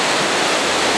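A waterfall in Indonesia pours with a steady, loud, broadband roar that holds evenly throughout, with no voices over it.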